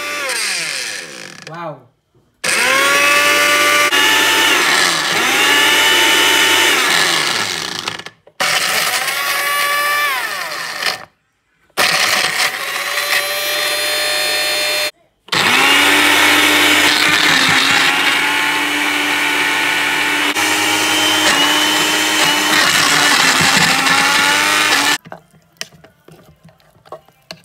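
An electric blender whirring through ginger and garlic with cooking oil, several loud sustained runs broken by short pauses, with a brief spoken exclamation between them.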